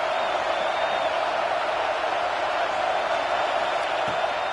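Home stadium crowd in the College Football 26 video game, a loud, continuous roar of massed voices cheering that holds steady without breaks or clear talk on top.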